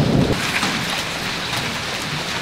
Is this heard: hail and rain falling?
yes